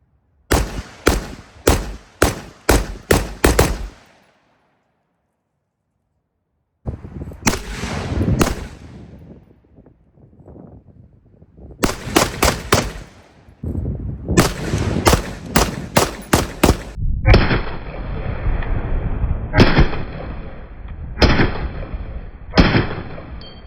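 An AR-15 rifle fires outdoors, first in spaced semi-automatic shots, then in rapid paired bursts from a binary trigger, with sharp loud cracks in quick strings separated by short pauses.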